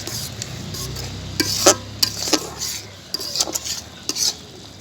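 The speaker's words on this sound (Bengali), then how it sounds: "দিয়ে ভালো করে নেড়ে নিব।" Ground spices being stirred in a cooking pot with meat, a low background sizzle with sharp metallic scrapes and clinks of a spoon against the pot in irregular bursts.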